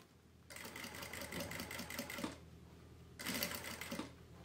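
A sewing machine stitches down bias binding on a baby's wipes-and-diapers pouch. Two bursts of steady rapid stitching are separated by a short pause, heard close against a quiet room.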